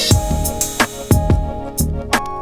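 A factory drum kit example pattern plays from a step sequencer in Pro Tools, with punchy kicks, sharp snare hits and bright hi-hats in a quick, busy groove, loud and up close throughout.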